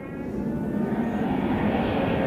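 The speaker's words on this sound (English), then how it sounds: "Some kind of compressed system, pressurized air." A steady, loud broadband whoosh of jet aircraft and compressed air systems at Anchorage airport, with a constant droning hiss and no talk.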